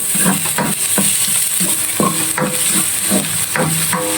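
Onions sauté in a pan for ginataang crabs, with a steady loud sizzle and regular scraping and tapping from stirring with a utensil, close and without talk.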